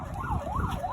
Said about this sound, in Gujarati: એમ્બ્યુલન્સ જઈ રહી છે.